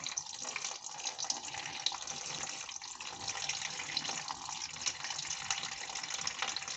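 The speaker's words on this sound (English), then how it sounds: "And you can hear it draining" Engine coolant drains from a loosened radiator hose on a 1996–2000 Honda Civic into a pan beneath the car, making a steady, faint trickling splash that continues without a break.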